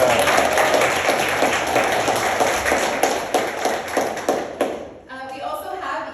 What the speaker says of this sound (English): So let's get a round of applause for Melissa.